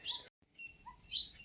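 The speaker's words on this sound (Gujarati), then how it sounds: "ને પંખીનો અવાજ તમને સંભળાતો જ છે" A few bright bird chirps sound outdoors, two short clusters of high tweets with a softer call between them, fairly faint against quiet surroundings.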